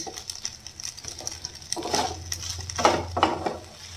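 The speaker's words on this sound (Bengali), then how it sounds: "এবার একটুকে ভালো করে একটু নেড়ে দিতে হবে।" Cheese chicken pasta with mozzarella, coriander leaves and spring onion is stirred in a pan, with soft scraping and clinking of a utensil against metal over a faint sizzle, close and without talk.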